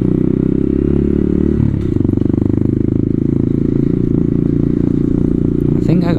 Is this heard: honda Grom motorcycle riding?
yes